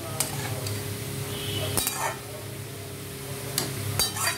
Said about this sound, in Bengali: এবারে আমি নাড়াবো এইভাবে।